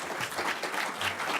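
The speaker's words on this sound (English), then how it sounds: "give Senator Portman a big round of applause and a welcome" A conference crowd applauds to welcome Senator Rob Portman in Colorado, dense, steady clapping from many hands, close and full with no talk over it.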